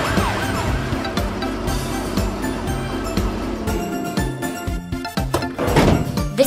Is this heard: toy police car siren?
yes